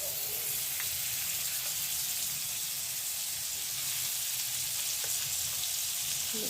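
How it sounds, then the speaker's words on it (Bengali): Butter sizzles and fries in a kadai while matar paneer is being cooked. A faint, steady hiss holds throughout, with a few small pops and no talking. "এর মধ্যে দিয়ে দিচ্ছি বাটার"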